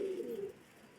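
A single soft pigeon coo, faint and close, fading out within half a second over quiet background.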